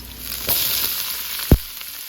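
Chopped vegetables hit hot oil with whole cumin and chopped onion, giving a steady close sizzle with a soft stirring clatter partway through.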